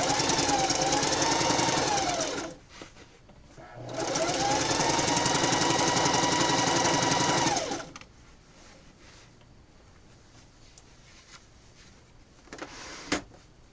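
Sewing machine stitching a quilt, its motor whirring loudly in two sustained bursts of several seconds each, separated by pauses, then quieter handling noise with a sharp click near the end.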